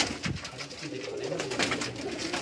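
A pigeon sitting on its chicks on a rooftop coos in soft repeated low calls, fairly close, over a busy, noisy outdoor background.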